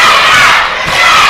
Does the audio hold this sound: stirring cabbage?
no